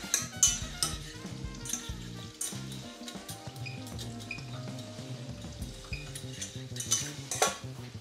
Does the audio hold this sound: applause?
no